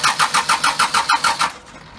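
A Cummins diesel in neutral being cranked over by the starter, a rapid rhythmic churning of about ten even compression pulses that stops abruptly without firing.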